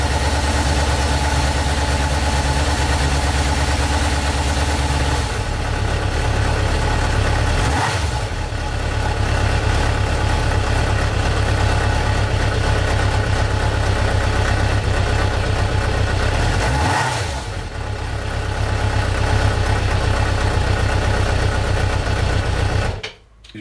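A car engine idles steadily and loudly with a constant low rumble, briefly dipping twice before cutting off at the end.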